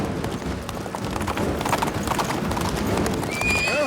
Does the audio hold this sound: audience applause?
no